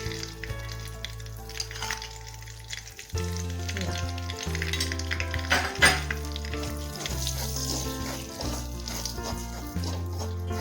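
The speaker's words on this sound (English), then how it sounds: "Now you can see here the besan is been frying from past 5 minutes." Besan (gram flour) frying in ghee, with a steady close sizzle running beneath a musical background throughout.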